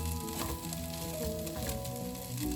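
Fried rice is stirred in a pan with mixed vegetables, olive oil or butter, giving a close, steady sizzle with a soft stir or two and no talk.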